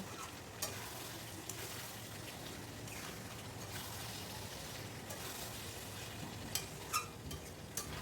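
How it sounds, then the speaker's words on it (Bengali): Fried potatoes are stirred into chicken coated in spice paste for a Gondhoraj chicken dish, giving a steady low sizzle with scattered scraping and clinks from the spoon. "এবার আলুটাকেও চিকেনের সাথে ভালো করে মিশিয়ে মশলার মধ্যে কষিয়ে নেব একটু"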